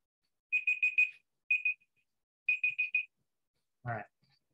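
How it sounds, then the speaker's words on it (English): A 30-second timer alarm beeps in three quick bursts of rapid, high-pitched electronic tones, clear and alone in a quiet lecture room, followed by a brief low thump. "that's a 30-second timer right there"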